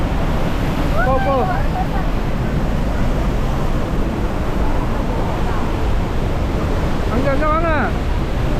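Steady, heavy broadband roar of the Rhine Falls waterfall in Switzerland fills the whole clip, with brief voices rising over it near the start and again near the end.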